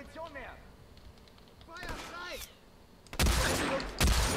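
Gunfire in the video game Hitman: Absolution cracks out in short volleys, with a loud, sustained barrage near the end; a few whistling, sweeping tones sound between shots.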